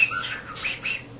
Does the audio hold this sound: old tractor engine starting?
no